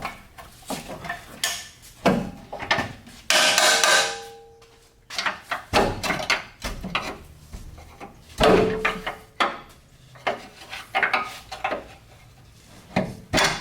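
A pry bar works a transmission cross member sideways under a 2013 RAM 2500 Cummins truck, giving irregular clanks, scrapes and metallic knocks at close range, with brief ringing hits among the shuffling.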